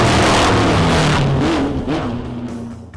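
Custom motorbikes ride down toward the coast with loud, close engine drone and rising revs, then fade as they pull away.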